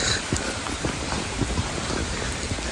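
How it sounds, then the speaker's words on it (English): Steady rain falls across the Swiss countryside, a dense hiss of drops with scattered close patters on surfaces, constant and fairly loud with no one speaking. "here I'm showing you nice rain in countryside in Switzerland"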